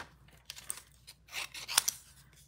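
Scissors fussy cutting around a stamped paper image for a tunnel fun fold card, with a series of close, crisp snips and papery rustles that build into a louder cluster near the end.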